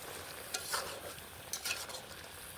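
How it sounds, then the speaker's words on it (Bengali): Curry seasoned with garam masala cooks in a pot, a faint low bubbling sizzle with a handful of quick stirring scrapes and taps, quiet and without speech. "এখন আমি এই যে গরম মশলা দিয়ে একটু ফুটিয়ে তারপর নামাই নেব"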